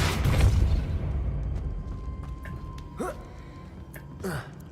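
A Depulso force spell cast in Hogwarts Legacy, a sharp whooshing burst at the start that fades into a low rumble, with brief whoosh and rising effect sounds later and no one talking.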